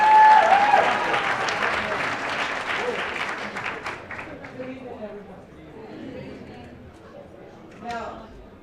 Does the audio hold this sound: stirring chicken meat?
no